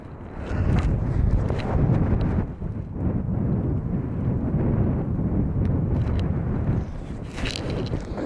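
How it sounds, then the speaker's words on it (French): Heavy wind buffeting the microphone during a mountain bike ride, a constant low rumble with gusty surges throughout and no clear speech. "J'espère que vous n'entendez pas beaucoup de vent."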